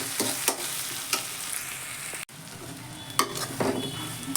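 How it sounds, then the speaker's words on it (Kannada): Green chili paste, dry coconut and salt roasting in hot oil, a steady sizzle with spoon scrapes and taps against the pan and a brief break midway. "ಈ ರೀತಿ ಹಸಿಮೆಣಸಿನ್ಕಾಯಿ ಪೇಸ್ಟು ಮತ್ತು ಅದರ ಒಣಕೊಬ್ಬರಿ ಮತ್ತು ಸಾಲ್ಟ್ ಹಾಕಿರೋದು ಕಾದಿರಿ ಎಣ್ಣೆಯಲ್ಲಿ ಅದು ಸ್ವಲ್ಪ ರೋಸ್ಟ್ ಆಗಬೇಕು"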